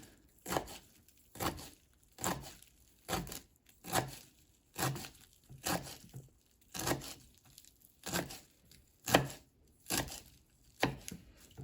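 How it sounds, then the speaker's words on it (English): Steady, rhythmic knife chops through herbs on a cutting board, about one per second, crisp and close, with soft leafy crunches and no talking. "And you wanna just start chopping."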